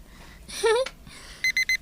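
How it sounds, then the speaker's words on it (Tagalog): Alarm clock ringing in an Ilocano fiction drama: a short rising chirp followed after a pause by three quick, loud, evenly spaced electronic beeps, close and clear. "Naguni di alarm clock."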